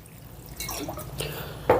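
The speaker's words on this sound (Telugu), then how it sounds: "ఇప్పుడు ఒక హండ్రెడ్ ఎంఎల్ వాటర్ కూడా పోసుకుందాం" Water, about 100 ml, poured into a brinjal and peas curry in a pan, heard as a brief splashing pour that ends in a sharper splash, close and fairly quiet with no talking.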